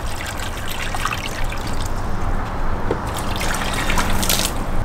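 Water poured into a seedling tray, a continuous close-up trickling and splashing that rises slightly as the liquid runs into the shallow tray.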